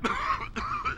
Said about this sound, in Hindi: I'm sorry, कमबख्त खांसी।